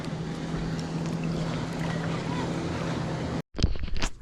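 Ocean waves near shore with someone standing in the water fishing, a steady rushing wash of surf and wind filling the scene, then a brief dropout followed by closer splashing and knocks.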